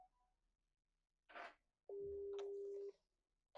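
A telephone line sounds one steady electronic tone for about a second, just after a short burst of rustling handling noise, in an otherwise quiet room.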